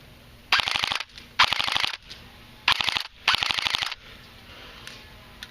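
An S&T airsoft PPSh-41 fires on full auto in four rapid rattling bursts, each about half a second to a second long, close and loud, separated by short pauses with no talking.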